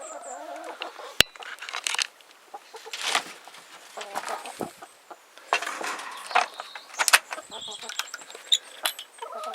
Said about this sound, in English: My chickens are still wanting their food